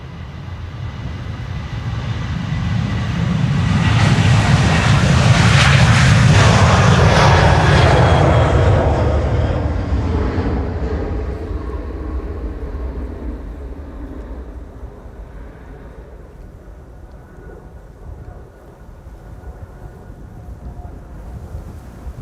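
A KLM Boeing 747 takes off from Schiphol's Polderbaan runway 36L, a powerful jet roar that swells to a loud peak and then fades slowly as the plane climbs away into the distance.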